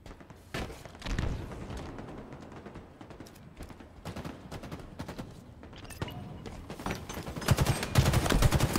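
Rapid bursts of gunfire erupt during a ranked Capture the Flag match on the Argyle map in Halo Infinite, with scattered clustered shots and thuds building toward denser, louder firing at the end.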